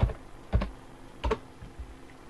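Keys on a computer keyboard are struck as a password is entered on a Linux machine, giving a few sparse, close clicks in an uneven rhythm over a low hum.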